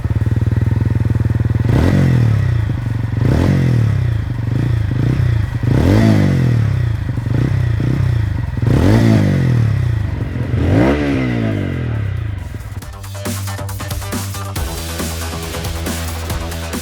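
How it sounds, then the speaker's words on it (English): A TVS Ronin motorcycle's exhaust loud and close: a steady low idle thump broken by about six sharp throttle blips that rise and fall, then a clattering, rougher settle toward the end. "let's listen to its exhaust note."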